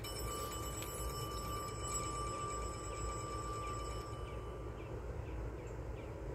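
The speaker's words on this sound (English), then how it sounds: "We don't need the alarms going off." An alarm rings with a steady tone and repeated chirps over a continuous hum inside an RV, running unbroken throughout with no talk.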